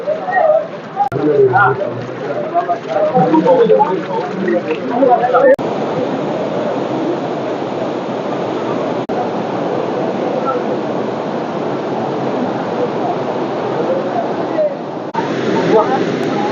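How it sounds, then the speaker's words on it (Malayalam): The strong river current at Kottiyoor during the Vaishakha festival, a loud, continuous rushing roar of water. Someone talks over the first part, and the flow carries on alone after that. "ശക്തമായ ഒഴുക്കാണ്"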